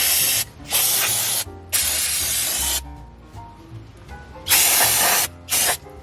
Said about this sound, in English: I'm gonna take some brake clean and get all the grease off the rotor.